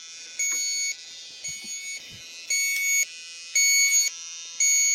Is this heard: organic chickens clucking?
no